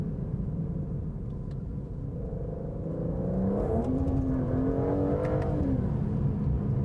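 A Ferrari 12Cilindri or Aston Martin Vanquish supercar accelerates hard in second gear, its engine note a deep, loud, rising roar heard from inside the cabin, swelling as the revs climb.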